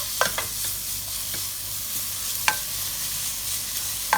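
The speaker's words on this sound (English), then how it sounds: "Look, meat's cooking. It's roasting and nice." Pork and kimchi stir-fry in a hot pan with a loud, continuous sizzle and occasional sharp spatula taps and scrapes, close by with no voices.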